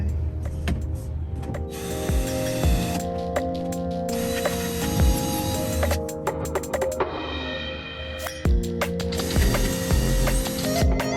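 Ratchet wrench clicking rapidly as bolts are turned while finishing dinette bench seats in a RAM ProMaster 1500 van conversion, loud and close, in repeated bursts with short pauses and a steady hum underneath.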